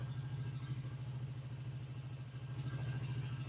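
A Polaris Sportsman ATV engine idles steadily during a warm-up heat cycle, a low rhythmic mechanical chug with even pulses and light clatter, moderately quiet and alone without talk.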